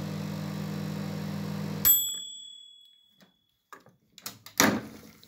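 A repaired microwave's steady hum cuts off with a bright ding. After a short quiet, the door is opened and shut, giving a few close, sharp latch clicks and thumps.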